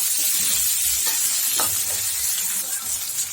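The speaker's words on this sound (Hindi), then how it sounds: "और इसमें हमने जो प्याज काटा था वो डाल देंगे इस तरह से।" Chopped onion sizzling loudly in a hot pan while being stirred, a dense continuous frying hiss broken by scraping stirs, close up and with no talking.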